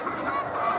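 Poultry on a farm in Nagcarlan, Laguna give short nasal honking calls at close range, a brief burst of bird noise with no talking.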